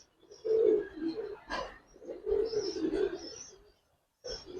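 Giribaz pigeons at a pigeon farm cooing close by in several soft, throaty bursts with brief pauses between calls.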